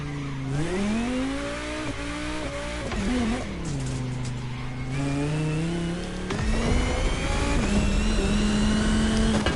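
Game car in The Crew Motorfest accelerating hard on nitrous, a loud close engine whine climbing through several gear shifts with tire squeal and a rushing boost surge that builds toward the end, no talking.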